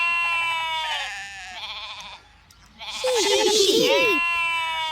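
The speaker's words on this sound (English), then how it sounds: "Sheep!" Sheep bleating in a children's farm-animal movement game, several wavering bleats in a row that rise and fall in pitch, close and fairly loud, with music-like tones and a short quiet gap in the middle.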